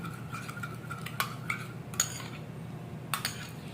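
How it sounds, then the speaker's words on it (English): A spoon stirs skincare ingredients in a bowl with faint scraping, broken by a few sharp clinks against the bowl at irregular intervals, quiet and close. "Make sure you mix very well, because to enable everything to mix properly."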